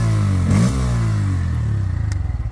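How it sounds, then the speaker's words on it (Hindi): A 2024 Bajaj Pulsar N160 motorcycle with an underbelly exhaust runs close and loud, its deep, bassy exhaust note swelling with a brief rev before settling into a steady throb. "इसका एग्जॉस्ट नोट थोड़ा सा लाउड सा है और बेसी सा है"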